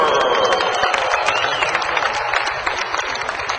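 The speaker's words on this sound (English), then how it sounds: "Let's give a big round of applause for 33P, Josh Butler." A large crowd of fans at the 2007 Springfield TT motorcycle flat-track race applauds a racer, giving a loud, steady wash of clapping and cheering that holds throughout.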